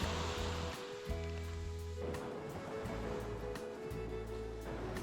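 Ocean waves break on a shore while someone walks a tidal beach foraging for squid, with a soft continuous wash and surges rising and falling under a sustained tonal background.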